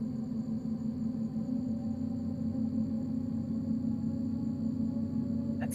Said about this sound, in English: You can hear the SPMTs.